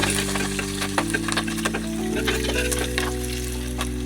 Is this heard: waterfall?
no